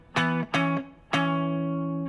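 An electric guitar with distortion strikes blues barre chords in E, two quick choked hits followed by a longer ringing strum that sustains and slowly fades, played close with no voices.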